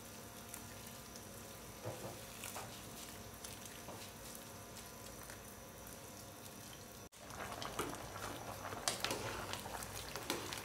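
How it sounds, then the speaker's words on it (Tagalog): Water being poured over basmati rice in a cooking pot, a steady close hissing and sizzling wash that swells louder after a brief cut, with faint clinks and no speech. "Mag-add tayo guys ng tubig."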